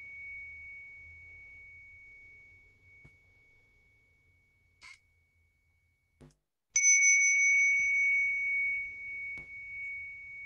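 A meditation bell rings with a thin, sustained tone that fades away, followed by a few soft taps and then a brighter, louder strike whose ring holds steady to the end in an otherwise quiet room.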